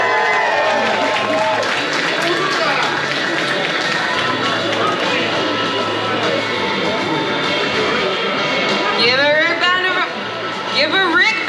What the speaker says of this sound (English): Let's give a big hand for Miss Jennifer Gross.